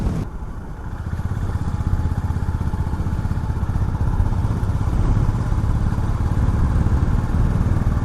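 A Honda CB 350 motorcycle cruises on a highway at speed, its engine droning steadily and loudly throughout, mixed with constant wind and road rumble.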